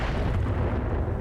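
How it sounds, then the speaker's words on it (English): Artillery fire and explosions in the RogueTech game, a dense rumbling barrage of heavy low booms running continuously across the short span, loud and close with no talk. "And let's see what that artillery gets done"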